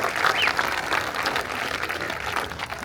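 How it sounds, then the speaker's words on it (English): A school audience applauds a staff member, the orchestra director, at a marching band event, a steady wash of many hands clapping at moderate loudness with no talk over it. "give Miss Johnson-Dennis a big round of applause"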